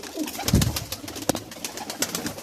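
Pigeons in a loft in Jhelum cooing, soft repeated low coos mixed with fluttering and small clicks, close by with no talking.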